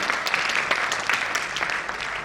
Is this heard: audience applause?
yes